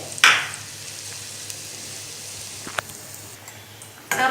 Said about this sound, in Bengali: এটা ডিপ ফ্রাই হবে কম আঁচে।